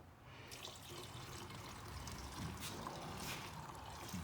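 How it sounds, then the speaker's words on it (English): Fuel with the ethanol removed is poured off into a container. A soft, continuous liquid trickle and splash runs quietly and close throughout. "Now we're going to pour this off into the"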